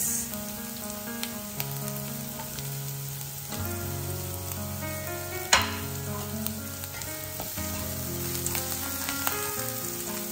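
Sliced onions and chilies fry in a pan toward golden brown, a steady crackling sizzle close by with occasional stirring knocks and one sharp clack midway.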